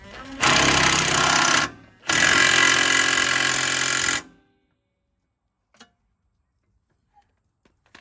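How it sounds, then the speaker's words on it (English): A power ratchet runs in two loud, close bursts while a MK5 GTI is being lowered, followed by near silence with a few faint clicks. "ratchet was running the wrong way."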